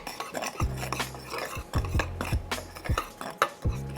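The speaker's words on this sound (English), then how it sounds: "Give that a mix, and then we'll be ready to fry." Chicken pieces tossed with a little sazon seasoning in a bowl, giving repeated clinks and scrapes of a utensil against the dish in uneven bursts, close and fairly loud with no voices.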